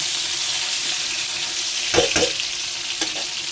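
Potatoes and onions sizzle steadily in hot oil in a pan, a close, even hiss, broken near the middle and later by brief stirring scrapes.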